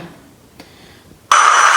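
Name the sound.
braking sound effect from Lego Batmobile light kit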